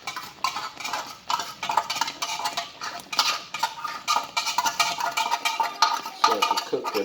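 Metal utensils clink and scrape against a dish in a quick, uneven rhythm as tuna is worked into a cheesy tuna casserole, close and fairly loud with no voices.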